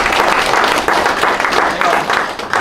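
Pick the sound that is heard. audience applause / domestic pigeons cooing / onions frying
audience applause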